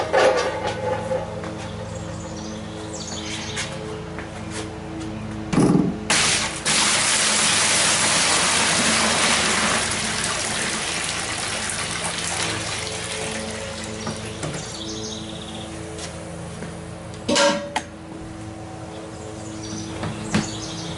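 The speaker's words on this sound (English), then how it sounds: "So we'll be dumping the water in there" Hot water gushes into a cooler mash tun for all-grain home brewing, a sustained rushing pour with a few clunks and knocks before and after, heard close and alone.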